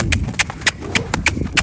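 Horse hooves clip-clop in a steady, quick rhythm on a hard surface, close by, with a faint murmur in the background.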